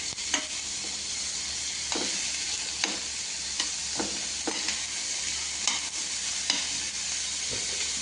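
Maggi noodles are stirred and fried in a pan, a spoon scraping the pan every second or so over a steady, loud sizzle of hot oil, close up with no talking.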